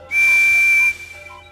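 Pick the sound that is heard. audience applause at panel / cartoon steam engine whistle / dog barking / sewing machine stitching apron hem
cartoon steam engine whistle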